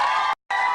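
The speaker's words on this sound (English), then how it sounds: "Big round of applause, everybody." A game-show studio audience cheers and whoops in a short loud burst that cuts out briefly, then resumes.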